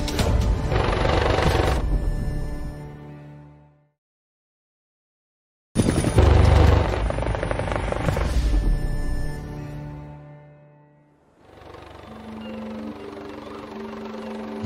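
Air ambulance helicopter near a coastal beach landing site, rotors turning: loud broadband engine and rotor roar that cuts to silence, returns with a heavy thump, then fades and comes back as a steadier drone with a tonal hum.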